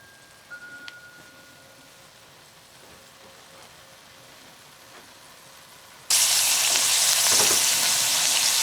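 Quiet kitchen ambience with a faint click, then a smoked ponce (chaudin) hits the hot pot and a loud, steady sizzle takes over close by for the last few seconds.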